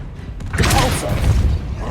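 A Repulsor spell cast in Hogwarts Legacy gives a single loud, booming burst with a whooshing rush, fading into rumbling, lingering impact noise.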